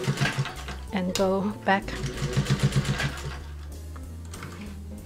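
A sewing machine stitches fabric for a guinea pig cuddle cup bed, running in several short bursts of rapid mechanical whirring with pauses between, heard close up while a person talks over it.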